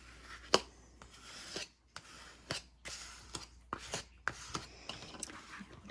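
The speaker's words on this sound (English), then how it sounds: "Burnish that on." Paper is burnished by hand onto a page of a Christmas keepsake recipe album, giving repeated dry rubbing and scraping strokes in an uneven rhythm, close and fairly quiet, with no talking.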